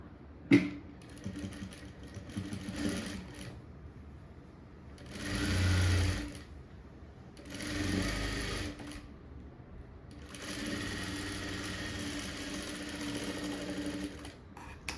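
Sewing machine stitching a band onto a blouse, running in several distinct bursts of a few seconds each with quieter handling sounds between them, close and fairly loud, with no talking.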